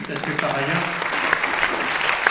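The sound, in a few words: audience applause at ceremony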